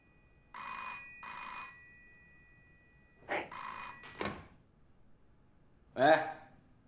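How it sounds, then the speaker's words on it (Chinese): Telephone bell rings in an office, several separate bursts with short pauses, fairly close, before a man answers. "接电话，合适吗？"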